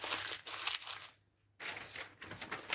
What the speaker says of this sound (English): Get half a sheet of newspaper, crumple it up into a ball,